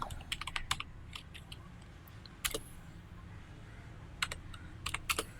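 An SSH login command typed on a computer keyboard, quick bursts of crisp key clicks separated by short pauses, close and fairly quiet, with no talking.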